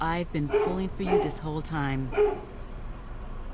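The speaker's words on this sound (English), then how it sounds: "Sorry about my dogs." Dogs bark and yip repeatedly close by at home, loud and insistent, while a person talks over them before the barking stops.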